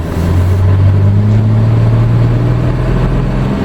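Engine of a Dodge Ram pickup with a 48RE automatic transmission, revving steadily near 2,500 RPM in first gear under load, a continuous loud drone with a slight rise in pitch as it nears the shift point.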